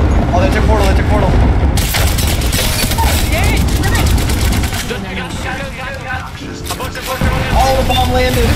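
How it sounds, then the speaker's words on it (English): Bombs land and explode in a shooter game, giving heavy booming blasts and crackling gunfire, loud and continuous, while a player talks over the action. "All the bomb landed."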